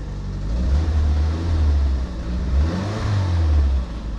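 A car engine idles and rises gently in a couple of smooth revs close by, the low growl swelling and easing back while an oil pressure gauge is being checked.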